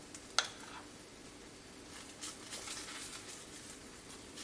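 Desi ghee sizzles softly in a hot pan under a cauliflower and spinach gobi paratha, a faint, steady crackle with a sharp tap near the start and light spattering that swells slightly later on.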